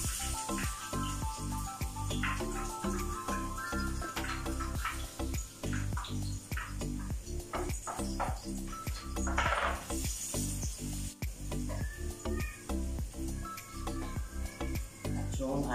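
Hot oil sizzling in a wok as garlic goes in, a steady close fizz with a brief louder burst partway through, under a low background hum.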